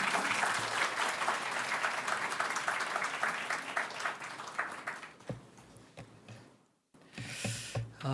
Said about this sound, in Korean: 환영의 의미로 박수로 맞이하도록